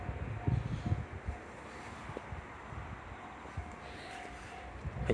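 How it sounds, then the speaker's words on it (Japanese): Strong gusting wind buffets the microphone at Kusami Station on Japan's Nippō Main Line, with low rumbling bursts rising and falling unevenly throughout. "今日ね風が結構強いですよ。"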